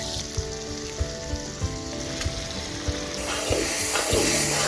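Curry leaves hit hot oil for a squid pepper fry, giving a steady loud sizzle with small spatters and occasional clinks of a stirring utensil, growing louder and crackling toward the end.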